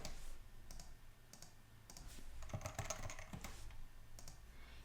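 Keys clatter on a computer keyboard as a task is entered into a Notion planner, quiet irregular bursts of clicks close by, with no talking.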